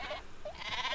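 Sheep weapon bleating in the video game Worms, a few short, quiet bleats in quick succession over a faint background.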